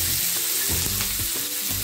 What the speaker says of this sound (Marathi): चांगला त्याला तळून घ्यायचा आहे कांद्याला